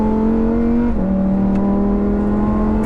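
A Lamborghini Huracán STO's 5.2-litre naturally aspirated V10 drones loudly at high revs on the Sepang International Circuit, its pitch dipping briefly before holding a steady, sustained howl.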